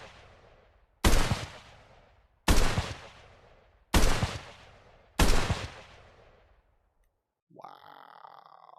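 Four loud, evenly spaced single gunshots fired in the VR game Gunworld VR, each a sharp close crack with a decaying tail, then a short electronic tone after a pause.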